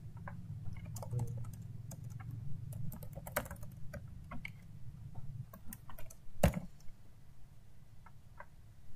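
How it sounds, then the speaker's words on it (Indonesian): Steady typing on a computer keyboard while building a Kivy form in Python, with quiet rapid key clicks spread through the whole stretch, one louder keystroke standing out near the end, and a low hum beneath. "Mungkin harus kita ketik manual karena dia tidak otomatis"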